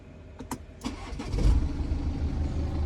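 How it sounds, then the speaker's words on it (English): A 2018 BMW F30 starts up: a few clicks, the starter cranking briefly, then the engine catches and settles into a steady, close idle. "I started the car and everything works"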